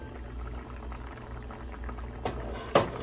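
Broccoli cheddar soup with broccoli and carrots simmers in a pot, a steady low bubbling burble that stays even throughout, with a couple of brief clinks or knocks near the end.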